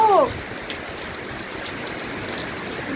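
Dense, steady hiss of heavy rain pouring down, constant throughout, with a brief whistling tone right at the start.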